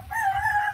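A rooster among four-month-old chickens lets out a short, close crow, a steady tonal call lasting under a second, with no talking over it.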